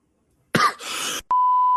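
A person coughs and clears their throat, a short rough burst then a raspier follow-up, close and loud, before a sustained electronic beep cuts in alone.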